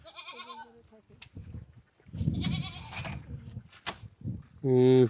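Goats bleat at a homestead on a remote Padma river char, with several clear, wavering bleats near the start and end while people talk close by.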